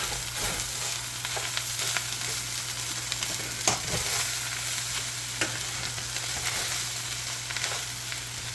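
Pork fried rice fries until crispy in a pan, giving a continuous dense sizzle with occasional louder crackles and spatula scrapes, close and steady with no talking.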